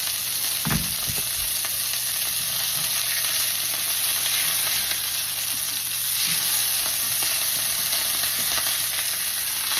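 Burgers fry on a stove burner with a steady, close hiss and sizzle throughout, broken by a few faint pops and a brief knock or scrape near the start.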